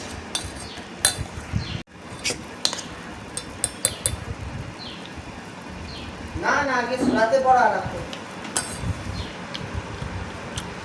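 A spoon stirs biscuits and sugar into a bowl of hot milk, giving a scatter of light, sharp metallic clinks with a voice speaking briefly midway and faint background noise.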